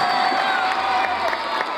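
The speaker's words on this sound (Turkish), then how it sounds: "bizlere şöyle bir kocaman bir alkış alalım" A live concert crowd cheers and applauds steadily and loudly for a couple of seconds, a dense wash of clapping and shouts with no single voice standing out.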